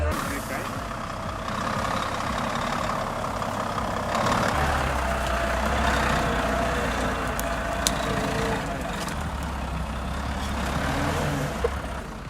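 A logging truck's engine labors steadily and loudly under heavy load with the clutch working hard, a continuous low rumble that deepens partway through and carries on for the whole stretch.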